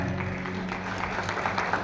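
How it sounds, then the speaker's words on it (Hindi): An audience at a Hindi bhajan gathering, just after a Ganesh vandana, claps in a steady, dense patter of many hands throughout, with a low hum beneath. "एक बार जोर से ताली बजाइए"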